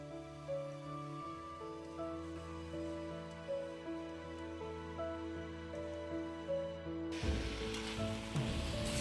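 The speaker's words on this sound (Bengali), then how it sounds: "ভালো করে হাই ফ্লেমে আমি এটাকে ফ্রাই করবো এবার" Duck meat frying on high flame in oil and spices: a soft, faint sizzle sits under a steady musical background, then the hiss swells suddenly and grows louder and broader for the last couple of seconds.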